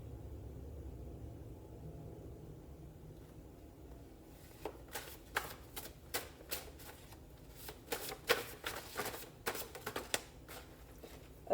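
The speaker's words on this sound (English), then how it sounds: "I'm going to pull some cards really quick" A deck of cards being shuffled and pulled, a series of quick crisp riffling snaps in uneven bursts, close and fairly quiet against a soft hum, with no talking.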